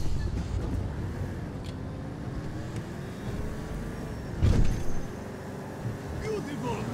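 A car engine drones steadily while driving in Grand Theft Auto V, with a brief louder surge midway, under background chatter.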